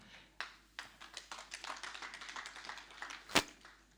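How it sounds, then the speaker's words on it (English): Sparse hand clapping at a regional civil society conference, a few distinct claps building into a light patter of applause from a small audience, fairly quiet with a sharp clap near the end. "A very big hand clap to Mr."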